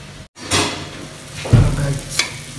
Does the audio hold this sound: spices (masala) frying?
yes